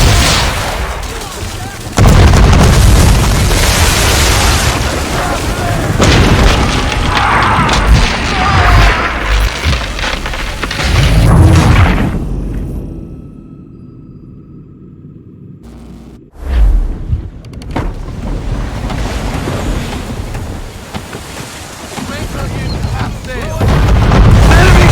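Ship cannons fire during a naval battle in Assassin's Creed III, heavy booming volleys and crashes over a constant roar of sea and combat, with voices shouting under the barrage, a brief lull, then another sharp blast.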